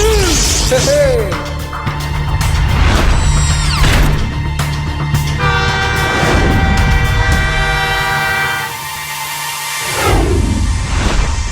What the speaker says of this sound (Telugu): అటు చూడు, ట్రైన్ వచ్చేస్తోంది.